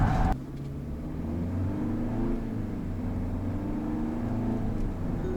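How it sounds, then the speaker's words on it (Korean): A Kia Tasman pickup truck accelerates hard in normal two-wheel-drive mode, its engine rising in a steady, fairly close drone heard from the cabin with no talking. "이륜구동 모드로 지금 노멀 모드로 한번 일상 가속을 호쾌하게 한번 해봤습니다"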